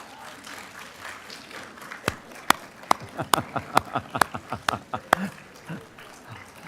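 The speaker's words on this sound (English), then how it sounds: "face those that you want to thank the most, and you clap for them" Graduates at a Texas A&M University at Galveston December commencement ceremony clap for those they want to thank, the claps starting sparse and growing into a loose run of sharp, distinct hand claps over a murmuring hall.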